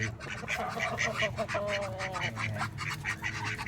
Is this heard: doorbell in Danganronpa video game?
no